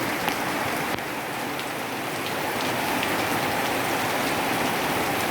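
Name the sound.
rain falling at a school ground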